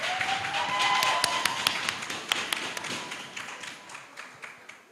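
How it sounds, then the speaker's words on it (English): Audience at a university guild election debate gives a round of applause for a speaker: scattered claps, fairly quiet and thinning out, with sparse taps trailing off toward the end. "Let me hear a round of applause for him."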